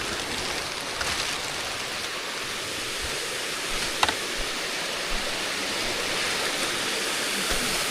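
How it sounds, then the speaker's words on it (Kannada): Roadside waterfall on the route from Jayapura to Horanadu, a continuous broadband rush of falling water heard close and steady, with faint thumps and no clear talk. "ನೋಡಿ, ಜಲಪಾತ"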